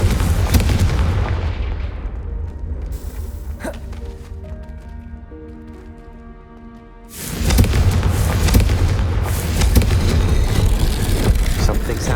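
Confringo spell explosions in the video game Hogwarts Legacy burst out in several booming blasts, the first half ringing with tonal magical effects before a loud, dense rumbling barrage takes over.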